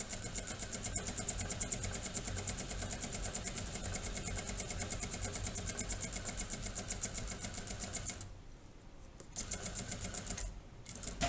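A sewing machine stitches a zipper onto a fabric pouch, its presser foot running along the zipper teeth, a steady close mechanical whir that pauses briefly twice before resuming.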